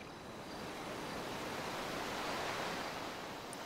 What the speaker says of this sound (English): I'd just go stand by the water on the beach, man. It was so calm and soothing.